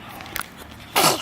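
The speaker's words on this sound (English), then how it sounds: "I'm sneezing a lot" A single sudden sneeze near the end, loud and close, after a stretch of quiet background with faint footsteps, recorded outdoors during a visit to a nature center.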